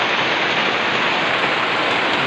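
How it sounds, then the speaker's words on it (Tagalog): Heavy rain pours down in the mountains as a loud, continuous broadband hiss with no letup, close and steady, with no voices over it. "malakas ng ulan"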